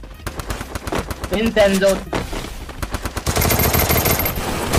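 Gunfire in Free Fire clash squad mode cracks in rapid automatic bursts and single shots, loud and close, with a voice speaking briefly among the shots.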